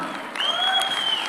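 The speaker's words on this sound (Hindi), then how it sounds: "एक बार जोरदार तालियां हो जाए।" Audience applause at a film event for the Ramayana, a short burst of clapping that swells after a moment and holds steady, moderately loud with faint crowd murmur.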